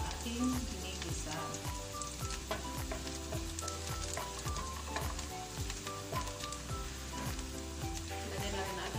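Kale and bell pepper sautéing in a pan, browning with a steady, dense sizzle and crackle throughout, with some stirring clatter mixed in; close and continuous.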